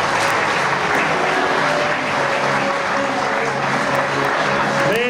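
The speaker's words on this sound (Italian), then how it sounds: "Vai, fate un bel applauso al Cu Sassari." Sustained, even applause from an audience at a Sardinian athletics award ceremony fills the whole stretch, with someone speaking over it.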